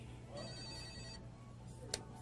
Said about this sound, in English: I believe the phone's ringing.